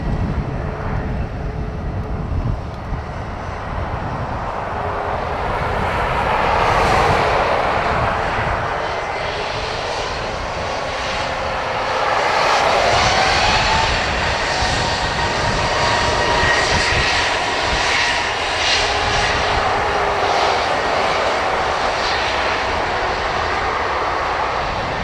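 An airliner takes off from runway 10 right at Dublin Airport in gusty wind, its engine roar broad and steady, swelling twice as it passes, loud and outdoors with no talk.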